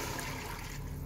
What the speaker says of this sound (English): I'm going to be adding a bit of water.